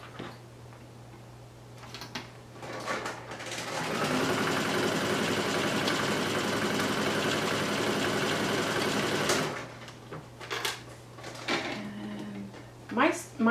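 A sewing machine stitches stretch lace onto a polo shirt collar in one steady run of about six seconds, with a low hum on each side of it and a person talking nearby.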